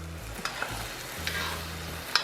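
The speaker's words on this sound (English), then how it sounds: "Get the potatoes in there, get them mixed around, stirred around" Potatoes are stirred into a pot of bacon cheeseburger soup, giving a steady low sizzle with soft scrapes and occasional clinks of the spoon against the pot, close and moderately quiet.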